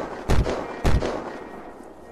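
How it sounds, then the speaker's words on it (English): Two loud, punchy gunshots in the survival game Unturned hit the floor about half a second apart, each with a heavy thud and short decay, followed by quieter ambient noise. "I'll just shoot the floor then"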